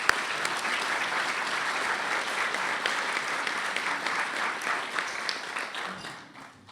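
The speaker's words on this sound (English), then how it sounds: "A round of applause for our head table." An audience at a National Press Club event applauds the head table: dense, steady clapping from a crowd, holding level before tapering off at the end, with no voices over it.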